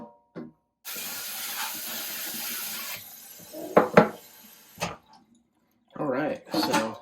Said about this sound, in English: I'm just going to go through this with hot water, really hot water, and get all the last bits of roots off